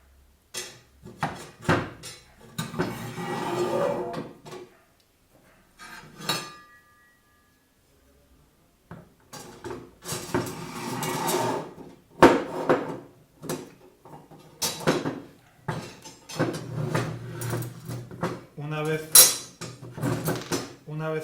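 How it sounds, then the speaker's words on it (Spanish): Metal clanks, clinks and scraping knocks come in uneven bursts as the steel frame of a Prusa P3Steel 3D printer is lifted and its side panels slide into their slots, loud and close with pauses between. "cogemos y levantamos el marco e introducimos por las ranuras cada uno de los laterales"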